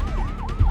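An ambulance siren wails in a rising-and-falling sweep that repeats three times in under a second, loud and close over a low rumble.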